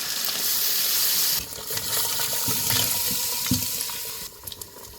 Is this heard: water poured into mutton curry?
yes